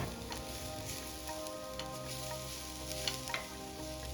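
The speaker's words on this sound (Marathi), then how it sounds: "आता या स्टेजला इलायची पावडर ऍड करून घ्यायची आता हे सर्व साहित्य व्यवस्थित मिक्स करून घ्यायचं" Modak filling with cardamom powder is stirred in a pan, giving a quiet, steady sizzle with soft scraping and stirring strokes throughout.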